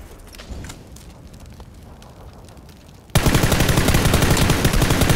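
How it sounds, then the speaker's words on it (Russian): Gunfire in the online shooter PUBG: after a few seconds of quiet game ambience with faint distant shots, a loud, sustained burst of rapid automatic fire erupts close by and continues to the end. "Не сзади стреляют."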